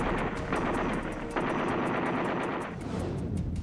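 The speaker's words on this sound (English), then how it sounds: "The Browning M1919 is a 30 caliber medium machine gun." A belt-fed, air-cooled Browning M1919 .30 caliber medium machine gun fires rapid continuous bursts, loud and close, with each shot sounding as a sharp crack over a rolling background of battle noise.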